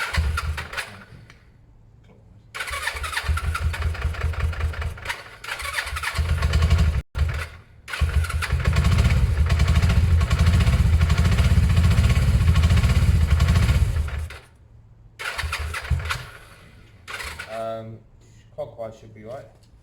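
A Suzuki GS500 motorcycle, freshly carb-cleaned, fires up and runs loud and close, revving and settling into a rough idle in bursts with short cut-outs between, while people talk over it.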